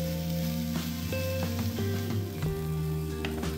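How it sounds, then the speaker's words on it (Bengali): Vegetables frying in a pan over a medium-high gas flame with a little salt, a steady close sizzle running throughout, with tonal hum lines beneath and no talking. "গ্যাসের ফ্লেমটা মিডিয়াম টু হাইতে রেখে সামান্য লবণ দিয়ে সবজিগুলো ভেজে নিতে হবে।"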